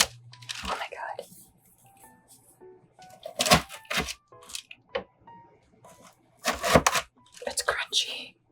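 A knife slices through crunchy homemade snowflake crisps in a few sharp bursts of cracking and crumbling, with quiet gaps between the cuts and a person talking softly in between.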